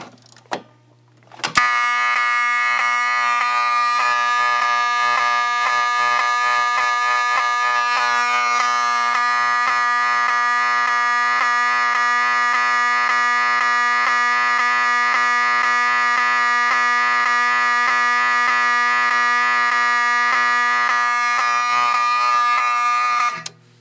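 Monaco Vulcan fire alarm system with a 7002T notification appliance sounding after a pull station is activated, a loud, steady, harsh electronic tone held continuously for about twenty seconds indoors, no talking.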